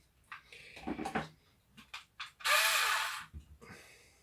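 A Ryobi 4V cordless screwdriver driving screws: short bursts of whirring and clicking ratchet sounds with brief gaps, then one longer, louder whir, heard close up.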